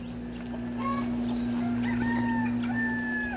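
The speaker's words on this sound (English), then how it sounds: "Jungle fowl in the house." Jungle fowl and quail call indoors in a house, with several short clucks and a few rising whistled calls over a loud, steady electrical hum.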